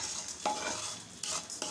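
Cumin seeds and peppercorns frying in a pan, a steady hiss with scraping stirs and a few metallic spoon knocks against the pan, close and alone with no voices.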